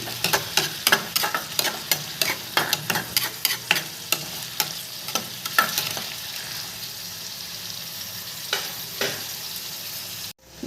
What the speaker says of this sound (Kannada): ನಾನು ಇದನ್ನು ಸ್ವಲ್ಪ ಎಣ್ಣೆಯಲ್ಲಿ ಬೇಯಿಸ್ಕೊತಾ ಇದ್ದೀನಿ